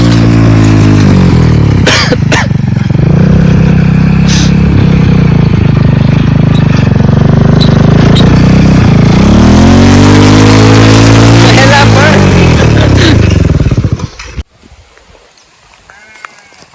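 A loud, modified 150 cc motorcycle engine with a rebuilt gearbox runs close by, idling with throaty revs for several seconds before cutting out abruptly near the end, leaving quiet background.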